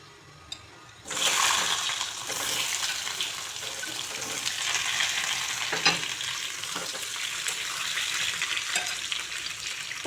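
Potatoes frying lightly in hot mustard oil in a pan for potato dum, a steady loud sizzle starting abruptly after a second of quiet and holding with occasional stirring scrapes.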